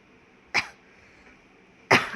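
Two sharp, close coughs from a person with a cough, separated by a pause of over a second, loud against a quiet room.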